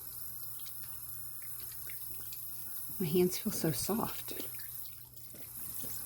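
Tap water runs steadily over hands at a sink as scrub is rinsed off, a soft continuous faucet stream with splashing at moderate level while a person talks over it.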